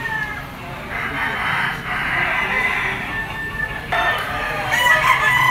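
A Kelso yellow-legged bull stag gamecock crows a few times in a row, its calls fairly close over low farmyard background noise.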